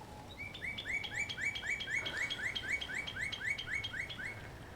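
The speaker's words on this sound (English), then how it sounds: "I'm not sure what kind of bird that is." An unidentified wild bird calls outdoors on a farm: a clear, steady series of about a dozen quick rising chirps repeated in an even rhythm over soft background ambience, with no talking.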